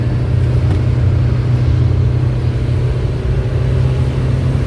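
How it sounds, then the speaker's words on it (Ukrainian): A small, underpowered car engine drones steadily as it climbs a winding mountain serpentine road, a continuous low rumble heard from inside the cabin with no break. "Трошки машина слабенькая для таких дорог."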